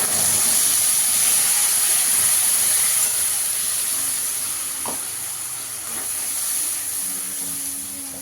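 Mango, ginger and green chilli paste dropped into a hot pan and sizzling loudly, a dense close hiss that eases slightly over time, with a few faint clinks of stirring.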